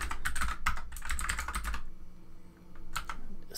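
Someone types rapidly on a computer keyboard while writing a shell script in vim. Quick clustered keystrokes break off in a short pause, then a few more taps follow, all close up with no talking.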